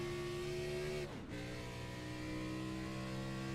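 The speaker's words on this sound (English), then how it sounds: "Big blip of the throttle to get the car to change gear." Next Gen Xfinity Series race car going into the carousel at turn 8 with a sustained engine drone, then a sharp throttle blip on a downshift that makes the pitch dip and surge before the steady roar resumes.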